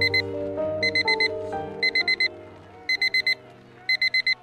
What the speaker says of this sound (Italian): È la sveglia del cellulare che scandisce l'inizio di una nuova giornata.